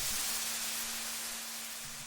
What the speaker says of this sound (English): I've got this noise effect here just coming in at breaks and such.